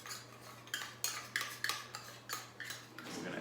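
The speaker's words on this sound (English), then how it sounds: "Let me kind of get a knife here, make sure I get all that molasses out." A knife scraping molasses out of a measuring cup in a home kitchen while baking gingerbread-style treats, a quiet series of about eight short, rhythmic metallic scrapes close by.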